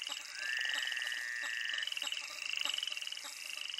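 Frogs croaking in a dense, rapid chorus, pulsing steadily and close, with a drawn-out whistling call over it early on.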